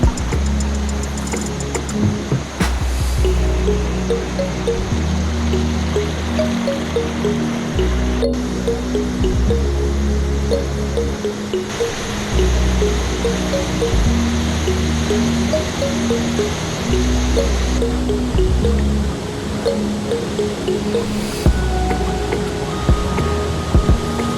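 Clear water rushes steadily at Marmala Waterfalls near Erattupetta, a continuous loud splashing flow of the stream and lower falls, close by and without speech.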